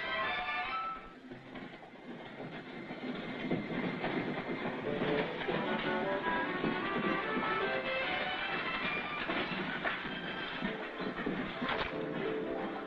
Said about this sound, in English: A freight wagon.